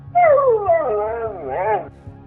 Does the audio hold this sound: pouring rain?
no